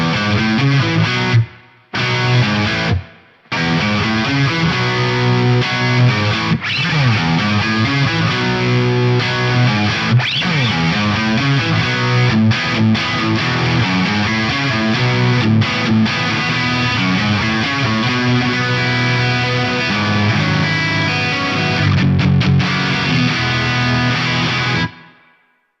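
A dirty, distorted electric guitar runs through a Meris Mercury 7 modulated reverb pedal, playing loud sustained chords and riffs that swell and shimmer for about twenty-five seconds, with two brief cutouts near the start and a sudden stop at the end.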